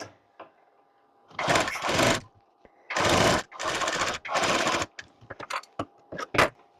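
Sewing machine stitching a blouse, running in several bursts of about a second each, separated by pauses and small clicks of handling, close and loud.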